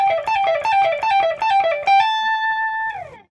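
Electric guitar plays a quick repeating minor pentatonic lick several times, then ends on a sustained high note that rings out and fades.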